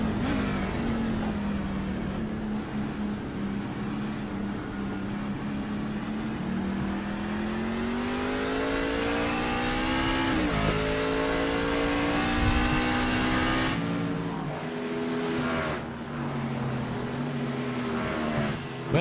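Onboard engine of a race truck at the Mid-Ohio road course, a loud, steady high-revving drone that climbs and dips through gear changes and corners, with a brief lift near the end before it pulls hard again.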